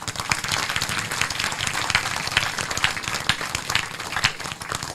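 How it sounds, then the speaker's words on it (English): An audience in a university hall at a career talk bursts into applause: a steady, fairly close clatter of many hands with distinct sharp claps standing out, lasting throughout. "please give a huge applause again"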